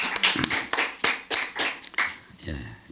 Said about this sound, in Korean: 영광과 박수를 하나님께 올려드립니다